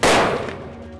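A single rifle gunshot used as a sound effect in a narrated night story, one loud, sharp blast at the start that rings out and fades over about a second, with no speech.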